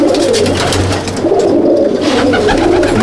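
Pigeons in a pigeon loft, cooing loudly and close in repeated soft throaty rolls that overlap continuously, with no talking over them.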